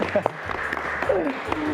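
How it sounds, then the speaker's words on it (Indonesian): Studio audience applause during a dangdut music television show, clapping running under music and voices throughout. "Tepuk tangan dong."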